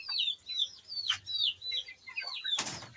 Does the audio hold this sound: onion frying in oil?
no